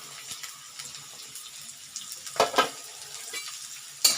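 Onions and green chilies sauté in a pan for egg fried rice, a soft hiss broken by a few louder scraping stirs near the end.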